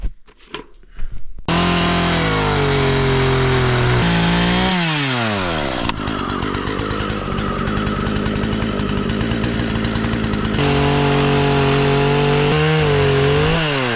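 A chainsaw trims the end of a log on an off-grid island build, running loud and close for most of the time, its engine pitch dropping and climbing as it bites into the wood and revs back up.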